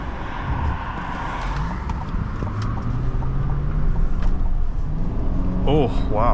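A 2025 GMC Sierra 1500 SLT pickup truck pulls away and accelerates, its engine rumble rising steadily and heard from inside the cab with a faint voice over it.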